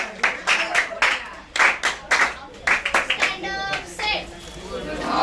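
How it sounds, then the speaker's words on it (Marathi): Students clapping in bursts to welcome the opening of a school science exhibition, loud close handclaps in uneven waves with children's chatter and voices between them. "सर्व विद्यार्थ्यांनी जोरदार टाळ्या वाजवून त्याचं स्वागत करावं"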